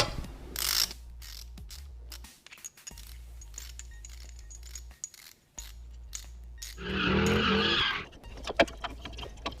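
Ratchet with a 15mm short socket working a motor mount bolt on an 04-07 Cadillac CTS-V in a garage, giving intermittent mechanical clicks and a louder burst of rapid ratcheting near the end, close up with no talk.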